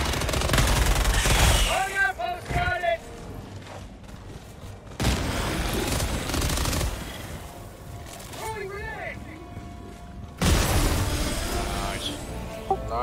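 Explosions and gunfire in Helldivers 2 come as loud broadband blasts that recur several times, each ringing briefly. A person talks between them.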